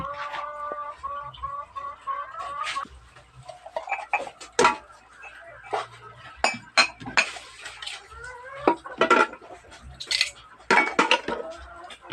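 Plates being handled and turned over, sharp clinks and clatters of dishware coming at irregular moments, some close and loud, over a busy background that includes clucking chickens and a ticking sound.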